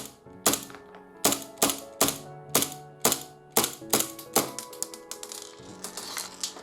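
An airsoft gas blowback pistol fitted with a silencer fires a steady series of sharp, snappy clacks, about a dozen shots in quick succession, close and clear with nobody talking.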